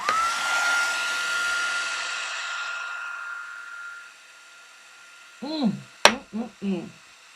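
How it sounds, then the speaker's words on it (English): An embossing heat gun used for card making whirs up with a loud, steady blowing hiss that holds for about four seconds and then fades out. A voice speaks briefly near the end. "let me warm up my heat tool, and then we will begin the magic of melting"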